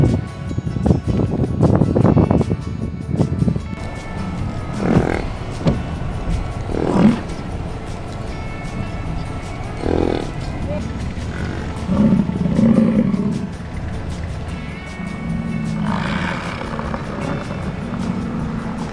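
Deep, rumbling grunts and bellows from fighting bison in Yellowstone come in repeated bursts outdoors, some close and loud, over a steady background rumble.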